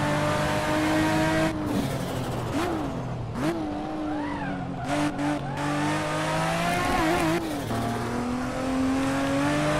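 A car in the Hot Wheels video game roars at a steady high engine pitch that rises and dips through gear shifts, with brief tire squeals and cuts, loud and continuous with no talk.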